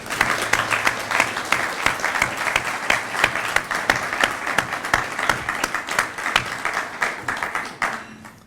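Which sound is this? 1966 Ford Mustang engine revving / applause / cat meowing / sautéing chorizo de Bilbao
applause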